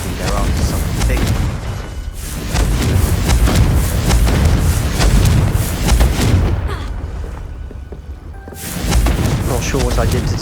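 A Confringo explosive spell going off in the video game Hogwarts Legacy, loud booming blasts and rumbling impacts that roll on for several seconds, with a voice shouting the spell name over the noise.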